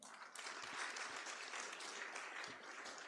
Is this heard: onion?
no